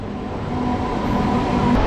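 A Jaleswar MEMU local train pulls into a station on the Panskura to Puri line, its low, steady rumble swelling gradually and holding close and loud throughout, with no voices.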